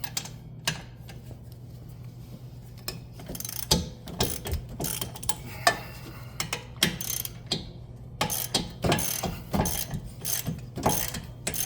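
Ratchet clicking in repeated bursts as wheel hub bolts, coated in Loctite, come off a 2018-2021 Chevrolet Equinox 2WD, close and moderately loud with brief pauses between runs of pawl clicks.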